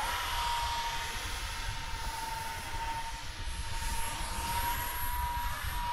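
An NGAD jet fighter in flight gives a steady, broad roar of engine noise with a high whine, holding at an even level throughout with no voices.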